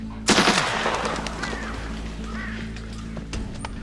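Gunfire in a Soviet-era war film: one loud sharp shot bursts out near the start and rings into a rumbling background, followed by faint distant sounds and a brief later crack.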